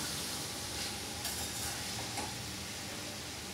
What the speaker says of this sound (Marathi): छान व्यवस्थित मिक्स करून घेणार